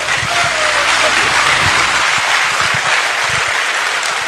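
Loud, dense applause from a large crowd fills the whole stretch, steady and sustained, with a low rumble beneath.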